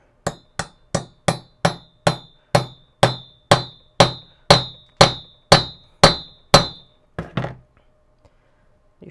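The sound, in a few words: hammer tapping U-joint into Jeep Wrangler driveshaft yoke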